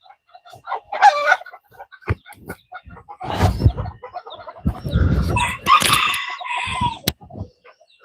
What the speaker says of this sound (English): You might be able to catch this rooster fighting after all.